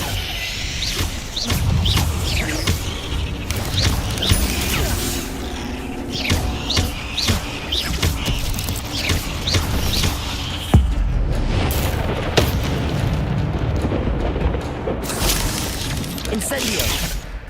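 Fire spell casts in the Hogwarts Legacy video game, bursting and crackling repeatedly amid loud, busy combat effects, with a person talking over much of the action.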